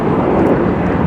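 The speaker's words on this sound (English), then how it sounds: "There's another airplane over there." An Alaska Airlines airplane passes over a Los Angeles construction site, a loud, steady, broadband engine roar close overhead that fills the whole moment.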